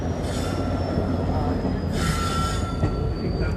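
An Indian Railways train rolls toward a station platform, its wheels squealing loudly in high, sustained screeches that rise in two bursts over a constant rumble of rail cars, with no talk.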